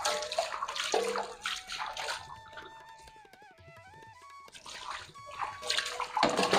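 Tap water running and splashing over dishes being washed at a village home sink, a steady broadband wash with a quieter mid-section where faint music-like tones sit beneath, then louder splashing again.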